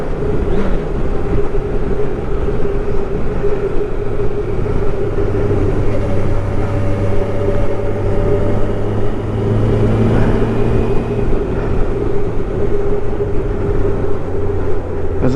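A Suzuki GSX 600F motorcycle with a 600cc engine accelerates through the gears, giving a loud, steady engine drone with rising and falling pitch as it shifts, all heard up close from the rider's position.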